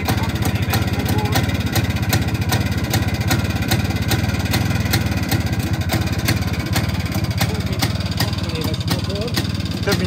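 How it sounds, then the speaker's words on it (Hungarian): A Pannonia motorcycle engine over 60 years old idles steadily and close, a continuous even putter that holds for the whole stretch without revving. "Ahhoz képest, hogy ugye ez egy több mint 60 éves motor."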